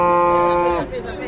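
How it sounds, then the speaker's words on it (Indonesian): A jumbo cow at the Pati cattle market lets out one loud, close moo that sustains and then falls off, with no speech over it. "jumbo-jumbo iki sapine"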